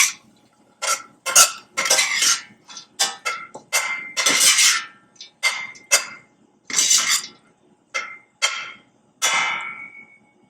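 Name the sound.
mixing quinoa stuffed pepper filling in a pan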